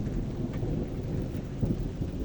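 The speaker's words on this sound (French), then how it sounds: "Il y a un orage ici." Thunderstorm outdoors with steady heavy rain and a deep rolling rumble of thunder, dense and continuous throughout, with no speech.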